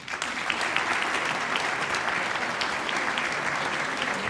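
Steady, dense audience applause at a live comedy show, loud and continuous throughout with no break.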